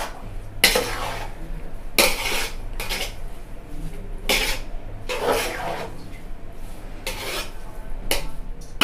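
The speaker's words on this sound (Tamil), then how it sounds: "அதில் வந்து நல்லா போட்டு கிண்டணும்" A spoon stirs mushroom biryani with masala in a metal pot, producing a series of loud, separate scraping strokes against the pot about once a second over a low background hum.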